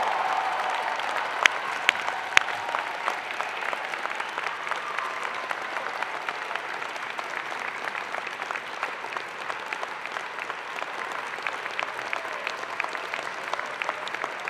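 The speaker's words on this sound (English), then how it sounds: "join me in applauding the amazing graduating class of Spring" Sustained applause from a large convocation audience honoring the spring graduating class at a university ceremony, dense steady clapping throughout with a few sharper claps standing out, no talking over it.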